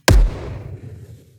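One deep, punchy electronic kick drum hit with a booming low thump that decays over about a second, heard alone.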